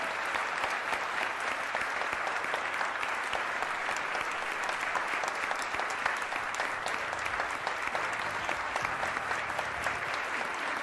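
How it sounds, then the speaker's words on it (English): Sustained audience applause at a United Nations presentation honouring Rotary People of Action, steady crackling clapping from many hands continuing evenly for several seconds, moderately distant, with no talking. "Once again, another round of applause for our Rotary People of Action."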